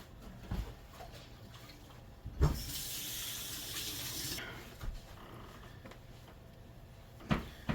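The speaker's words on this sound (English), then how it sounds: "now wash my hands" Hands are washed under a running kitchen tap. The water gushes steadily for about two seconds between quiet handling knocks and clatters.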